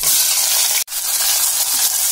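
Chopped onion sizzles in hot oil with mustard seeds and lentils for upma, a loud bright continuous hiss that cuts out for a split second near the start, then resumes, with no voices.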